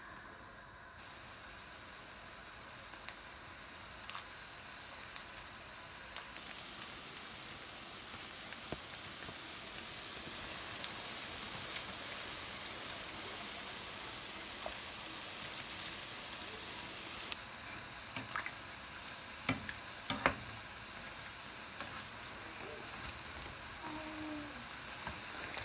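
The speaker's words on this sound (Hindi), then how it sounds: "फ्लेम को अब हमने लो कर लेना और इनको हल्की हीट के ऊपर जो है ना ऑयल में फ्राई होने देना है" Food frying in oil over low heat for a Ramadan iftar snack, giving a steady, soft crackling hiss with faint pops that runs unbroken for the whole stretch, with no talking.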